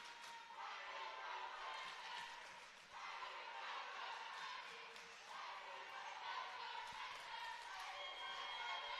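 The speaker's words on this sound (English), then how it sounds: "Crowd getting into it." A crowd at a PSAL girls basketball 3A semifinal between South Bronx Prep and Murry cheers in a steady roar with sneaker squeaks and bounces, while an announcer talks over it.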